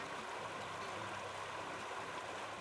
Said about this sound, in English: Most of the trip is along Oklahoma's only wild river, the Glover, where no dams control the flow.